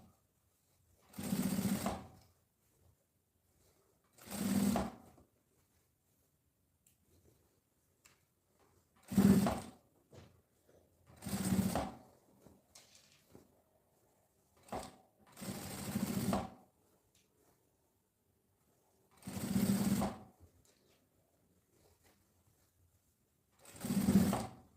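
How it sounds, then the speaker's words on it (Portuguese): A sewing machine stitches fabric lining in eight short, loud whirring bursts separated by quiet pauses. "Eu ajeito aqui esse pedaço, costuro."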